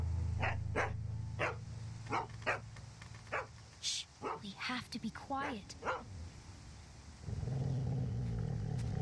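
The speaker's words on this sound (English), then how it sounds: "Shut up, dog." A dog barks repeatedly in short, sharp bursts, with yips and whimpers mixed in, over a low engine-like hum, while a person speaks in the middle of the barking.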